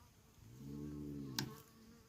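A yellow wasp buzzes close by, a steady droning hum that swells and fades over about two seconds, with a brief sharp click near its end.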